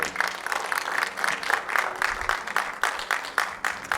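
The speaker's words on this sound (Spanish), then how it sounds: "Pero un fuerte aplauso." A church congregation applauds during a pastor's sermon, sustained loud clapping from many people with a slightly uneven, pulsing rhythm, carrying on without talk.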